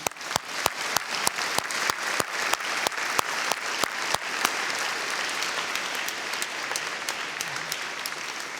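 Audience applause at a university graduation ceremony, opening with a few loud, sharp individual claps that quickly swell into dense, steady clapping from a large crowd, holding evenly to the end.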